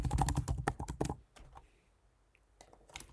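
Computer keyboard keys clatter in a quick burst of close, crisp taps, then a pause with faint room noise before a few more scattered keystrokes, fairly quiet overall and with no voices.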